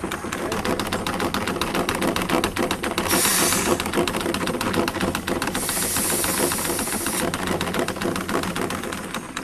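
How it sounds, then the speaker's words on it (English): Air hisses out of a pulsation dampener bladder under a constant mechanical clatter, with two louder bursts of release standing out over the noise. "I'm going to take the air pressure out of it and pull a slight vacuum on the bladder"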